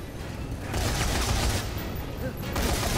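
Sustained rapid gunfire in the video game Dead Rising 3, with continuous loud bursts of shots and booms rising and staying heavy throughout.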